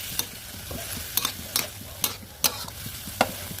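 Celery, sliced bell pepper and ginger are tossed in a wok over high heat, making a hissing sizzle punctuated by about eight sharp rhythmic scrapes and clanks of the spatula, close and clear with no talking.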